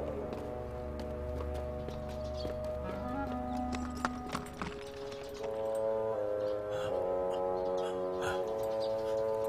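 Hooves clip-clop steadily on the ground from a horse in a historical Chinese drama scene, a continuous rhythmic clatter under a swelling music score and ambient noise, with an occasional whinny.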